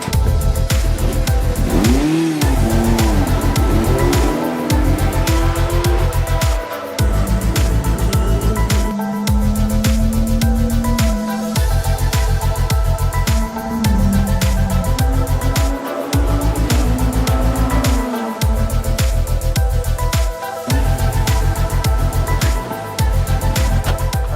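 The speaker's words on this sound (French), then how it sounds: "d'entendre le moteur, quand on passe les vitesses, craquement de la boîte" A car's engine revs hard and accelerates around the Albi racing circuit, rising and falling loudly in repeated bursts as the gearbox shifts, with brief cuts between gears and no speech.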